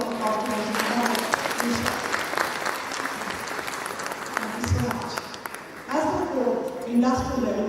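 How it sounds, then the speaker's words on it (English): An audience applauds Major Mohammed Ali Shah at a motivational talk, steady dense clapping throughout that surges louder near the end, with a voice speaking over it. "Let's give a big round of applause to Major Mohammed Ali Shah."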